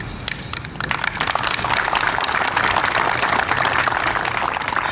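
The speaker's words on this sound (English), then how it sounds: "I would also like Stevie Wilhelm to get a special round of applause" An opening-ceremony crowd at a softball charity event breaks into a round of applause that builds and then holds steady as dense, continuous clapping.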